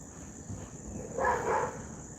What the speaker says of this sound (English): Sorry about the dogs next door